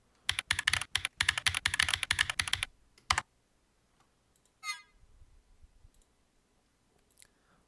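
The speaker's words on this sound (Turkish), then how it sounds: "Burada mesela klavye seslerini böyle tiklerinden değiştirebiliyorsunuz." Brisk simulated mechanical keyboard typing from the Opera GX browser, crisp clicky keystrokes for a few seconds, a short final burst, then near silence with a couple of faint clicks.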